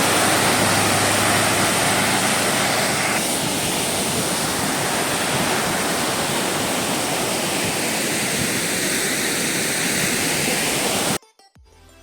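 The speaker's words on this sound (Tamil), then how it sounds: "எவ்வளோ சவுண்டு கேட்குது பாருங்கள். இதோ பாருங்கள், இதுதான் அது வெல்கம் டு பெரிய கனல் ஃபால்ஸு" Periya Kanal Falls in Munnar, Kerala, roars as a loud, continuous broadband rush of falling water, close and steady, with no talk, before cutting off near the end.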